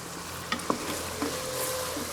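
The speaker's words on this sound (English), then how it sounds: "please keep stirring constantly, because you don't want the onions or the cauliflower to burn within the pot" Onions and cauliflower for aloo gobi sizzling in a pot, with a few distinct scraping stir strokes over a continuous low frying hiss, close and moderately loud.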